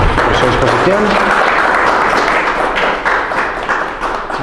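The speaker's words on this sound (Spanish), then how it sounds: "Le damos un aplauso a César por su exposición." Audience applauding a presenter after his talk in a politics lecture session, steady dense clapping throughout, with some voices mixed in at the start, fading slightly toward the end.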